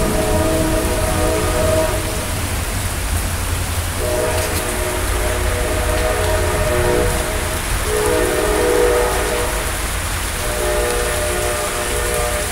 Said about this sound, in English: there's a train about 3 blocks away